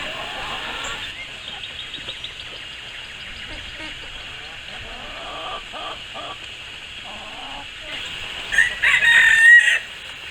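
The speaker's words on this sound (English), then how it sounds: "I pretty much built a chicken run for my 4 little bannies, and they keep that cleaned out really well for me" Four bantam chickens in a garden run cluck softly throughout, and near the end a rooster crows loudly and close by, against a steady outdoor background.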